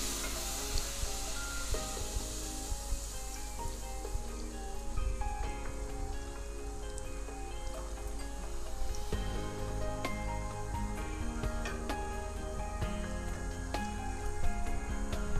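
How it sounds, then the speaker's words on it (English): About three cups of milk poured into a pan of bread pieces frying in oil, making shahi tukray. Steady, close sizzling and bubbling with soft stirring runs throughout, with no talking. "I'm gonna add about 3 cups of milk"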